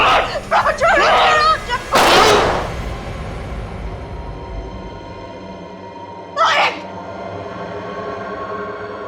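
A single sharp, loud bang cuts through after a few voices, followed by another brief burst a few seconds later amid a quiet hum.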